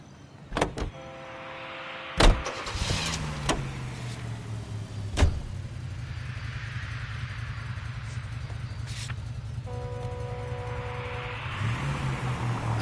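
A car driving in the video game L.A. Noire, with a steady engine hum under a few sharp thuds and clunks, held at a constant moderate level for the whole stretch with no talk.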